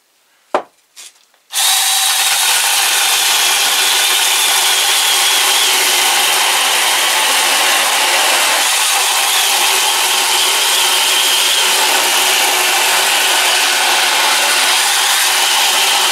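A couple of brief clicks, then a one-handed electric chainsaw with a newly replaced motor starts and grinds steadily through wood, a rough, sustained roar that keeps going without pause.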